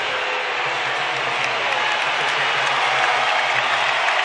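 A basketball arena crowd roars and applauds loudly and continuously after coach Gregg Popovich is ejected in a Warriors vs Spurs NBA game, a dense, sustained wall of noise.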